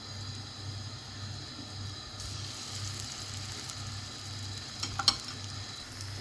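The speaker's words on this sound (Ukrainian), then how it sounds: "Смажу з однієї сторони буквально хвилинку-дві" Soft, steady sizzling of chopped chicken liver cutlets frying in a pan, quiet and continuous, with a few faint clicks and scrapes toward the end.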